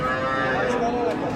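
A cow lets out a long, low moo close by at a livestock market, steady and drawn out, with faint murmuring voices in the background.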